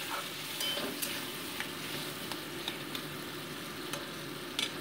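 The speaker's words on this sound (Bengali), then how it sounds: "মোটামুটি এটাকে 2 মিনিট আমি কষিয়ে নিচ্ছি।" A spice paste of tomato, ginger, cumin, chili and peas sautés in a pan with a soft, even sizzle and a few scattered stirring clicks, close and fairly quiet.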